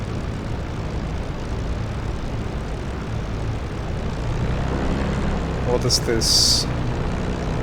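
A small propeller airplane's engine drones loudly and continuously from inside the cockpit as the throttle is advanced, the rumble thickening toward the end while a person speaks briefly over it.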